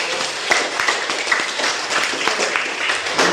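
Students in a grade 12 classroom clap together in a short, moderately loud burst of applause, with a few sharper claps standing out from the steady patter.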